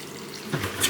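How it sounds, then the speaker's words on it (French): Water runs briefly from a kitchen tap during cooking, a short steady splash that brightens and swells near the end, close and clear, with no speech. "de l'eau."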